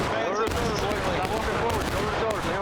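Musket volleys in the video game War of Rights crack out repeatedly in a dense, continuous battle din, with shouted orders and voices layered over the gunfire throughout.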